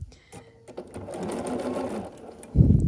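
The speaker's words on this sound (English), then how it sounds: "And just continue sewing these all together." Sewing machine stitching quilt block pieces for a scrappy sampler quilt runs in a steady whirring burst, with a heavier thump near the end.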